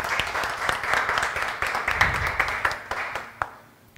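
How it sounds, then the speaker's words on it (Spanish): Audience applause at a pastry class, a dense burst of clapping from a small crowd that fades out after a few seconds. "aplausos."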